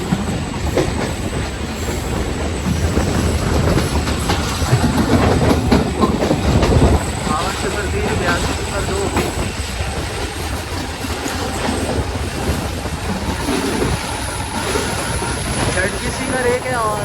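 A down goods train on the loop line at Jungshahi railway station rumbles loudly and continuously, with rhythmic wheel clatter, brief squeals and a steady roar that fills the whole stretch.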